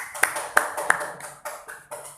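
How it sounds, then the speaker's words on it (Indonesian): A few sharp claps ring out in a small classroom during a microteaching lesson, sparse and uneven rather than a full round, fairly quiet with brief gaps between them. "Kasih tepuk tangan Mas Afif ini."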